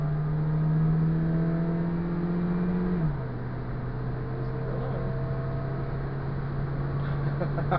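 A Chevrolet Cruze's engine drones steadily while accelerating, its pitch dropping partway through as if shifting, then holding a constant hum; no talking.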